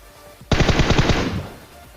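A Tommy gun fires a single loud, rapid burst of about eight shots in the video game PUBG, close and sharp, cutting off after roughly a second with a short fading tail.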